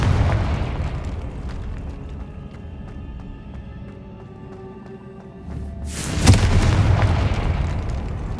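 A Confringo blasting spell explodes in Hogwarts Legacy, a loud, sudden boom that bursts out after a stretch of low rumble and tonal game music, then trails off into rumbling debris.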